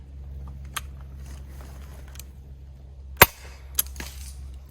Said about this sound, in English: We will load and fire 4 in total. So I'm just gonna keep on shooting and loading until I'm out of ammo.